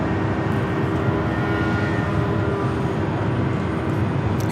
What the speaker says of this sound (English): Air New Zealand, the 777-300ER coming in from Auckland, arriving there on the south side through the haze